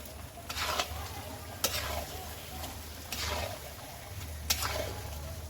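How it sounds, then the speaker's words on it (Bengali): Marinated chicken stir-fried in spice paste and oil, with a soft sizzle under repeated scraping strokes of a spatula about once a second, fairly quiet and close, no speech. "এবার দেখুন মাংসগুলো মশলার সাথে ভালো করে কষে নেব।"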